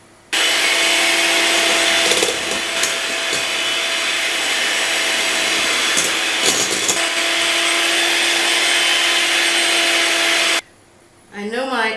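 Electric mixer on high speed whisking egg whites as sugar is added, a loud steady whirring drone that runs continuously for about ten seconds, then cuts off abruptly near the end.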